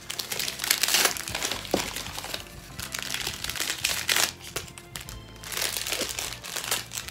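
Plastic gift packaging crinkles and crunches as it is pulled open, a steady stream of close, busy rustling bursts with brief lulls, no talking.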